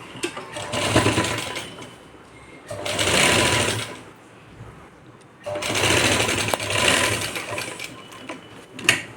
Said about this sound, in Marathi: खालून वरती शिवत यायचं आपल्याला